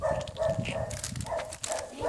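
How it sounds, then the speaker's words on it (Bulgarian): A dog barks a few times during an outdoor walk, fairly close and loud, its yelps mixed with people talking and street background noise. "Куче!"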